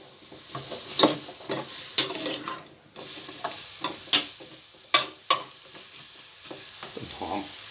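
Beef, winter melon and pumpkin stir-fried together in a pan, with steady sizzling and repeated scraping clacks of a spatula against the pan, close and loud, with no talk.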